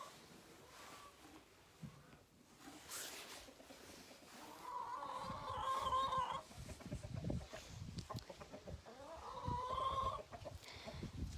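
Hens cluck softly outdoors on a farm, with bursts of busier clucking and a crowing-like call around the middle and near the end. The calls are faint over rustling and outdoor background noise.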